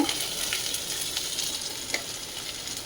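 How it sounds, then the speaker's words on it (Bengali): Ginger paste hits hot oil in a wok with a dry red chilli, bay leaf and whole cumin, giving a loud continuous frying sizzle with a few sharp spatters and light stirring, no talk. "এখন দিচ্ছে মল্লিকা আদা বাটা, আদা বাটা দিয়ে"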